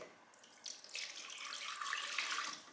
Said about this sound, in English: I'm going to pour the liquid